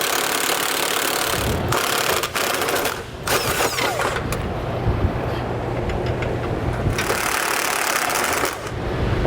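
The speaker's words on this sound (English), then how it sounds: "you can come back with your impact and take them all off" An impact wrench rattles off bolts on a 2021 Jeep Gladiator during a base plate install, in loud, repeated buzzing bursts with short pauses between them, close by, with no talking.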